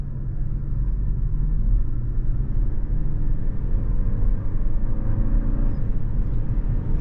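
A 2024 Toyota Crown Platinum Hybrid Max pulls away from a stop, a low steady rumble and whir of road and drivetrain building smoothly over several seconds, heard from inside the car without voices.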